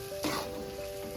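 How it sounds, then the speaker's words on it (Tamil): Tomato thokku bubbling and sizzling in oil in a pan, a soft, continuous crackle close by with a brief louder burst of spattering near the start. "அந்த கொதிக்கும் போது சவுண்டு கேக்குது, அந்த எண்ணெய் வெளியில வர்றது."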